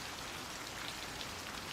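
Steady, dense rain pours without a break over a horror story, a constant close hiss of drops on a surface with no voices.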